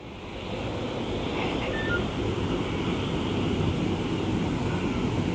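Sea surf and gusting wind roar steadily along the coast in Gujarat or Maharashtra during Cyclone Tauktae, a loud, unbroken wash of wave and wind noise that buffets the microphone, with no voices.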